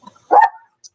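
A leashed dog lets out a single short, loud bark up close, with a faint click just after.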